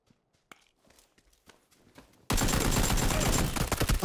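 Sustained loud burst of Vector submachine gun fire in PUBG, following a stretch of scattered faint footsteps and distant shots; the rapid shots run continuously to the end.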